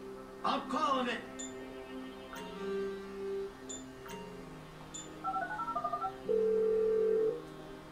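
Phone dialing in the video game GTA V: a quick burst of keypad tones followed by a steadier ringing tone, with people talking over the start and between the tones.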